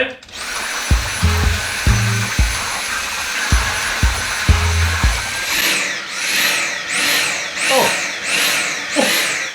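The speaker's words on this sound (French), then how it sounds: "c'est un aspirateur, bien sûr" A Dyson vacuum cleaner runs loud and close, sucking up long hair, a high steady whine under bursts of talking and laughter, then rising and falling in pitch as the nozzle moves.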